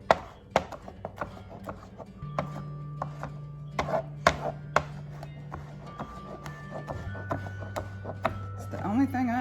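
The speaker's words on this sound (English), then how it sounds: "We'll just start slicing them." A knife slicing fresh strawberries for a strawberry cake on a cutting board, crisp repeated chops at an uneven rhythm, close and clear, with brief talk underneath.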